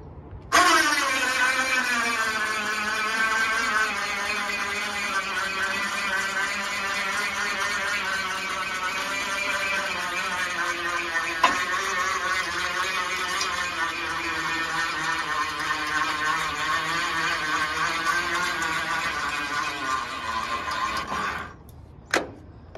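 A Cub Cadet 149 garden tractor engine runs steadily with a buzzing drone while its forklift attachment raises a load of roughly 475 pounds, continuous and fairly near, then cutting off at the end.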